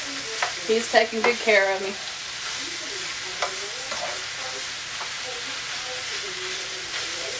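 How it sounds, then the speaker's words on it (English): Cabbage and spicy hamburger meat sizzle steadily in a pan while being continuously stirred, a constant frying hiss with a few scraping strokes, under a voice speaking briefly at the start. "Well, I'm just continuously stirring this."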